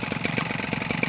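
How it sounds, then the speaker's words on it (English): A small Echo 25cc two-stroke engine fitted to an RC model idles low and steady, a fast even pulsing putter close by that runs on without a break. "Low idle, it'll idle like that forever."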